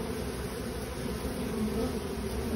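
A tiny honey bee swarm buzzes steadily and densely up close, a continuous insect drone that fills the short stretch with no voices over it.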